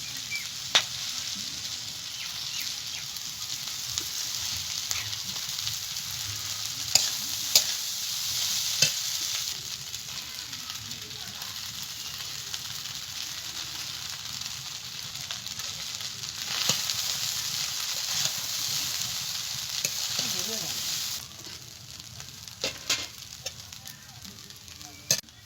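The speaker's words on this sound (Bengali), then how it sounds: "সবজিগুলো সব ভাজা হয়ে গেছে, এবার জল ঝরানো চিড়েটা দিয়ে দেবো" Drained soaked flattened rice being stirred into fried vegetables in a pan, a soft continuous sizzle with occasional spatula scrapes and taps, fairly quiet, easing off toward the end.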